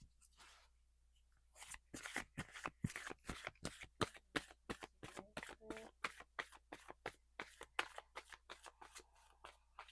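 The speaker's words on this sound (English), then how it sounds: "I'm gonna shuffle live for our first card from the Lemurian Oracle" Lemurian Oracle cards are shuffled close up in a quiet room, giving a steady run of crisp riffling snaps and soft slaps at a brisk, even rhythm, preceded by a brief, faint rustle.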